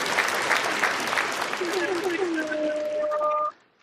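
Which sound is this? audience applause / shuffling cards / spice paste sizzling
audience applause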